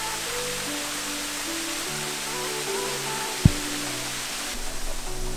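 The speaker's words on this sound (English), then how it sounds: "All right, so we made it to the top of the second waterfall." A waterfall on the Ka'au Crater Trail in Hawaii gives a steady, fairly soft broadband rush of falling water, with a brief sharp knock partway through.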